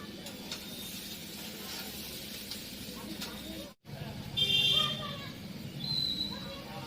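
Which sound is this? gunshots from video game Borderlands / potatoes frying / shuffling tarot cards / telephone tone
potatoes frying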